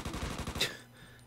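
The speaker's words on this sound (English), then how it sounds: "Obviously no man would take a clip of machine gun fire without just wearing a vest" Machine gun fire in the video game Mafia III: Rivals comes as a faint, quick burst of rapid rattling shots that stops abruptly and fades into quiet background hum.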